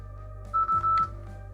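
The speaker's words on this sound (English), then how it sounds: "Give me just a second. That was my phone." A mobile phone gives a brief electronic ring, a few quick tone bursts close to the microphone in an otherwise quiet room.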